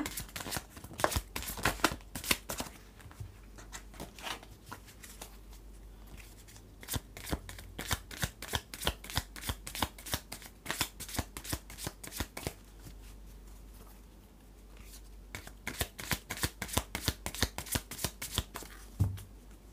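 A deck of tarot cards is shuffled by hand over and over, a long run of crisp rapid riffling bursts with brief pauses between, close and fairly quiet, with no talking.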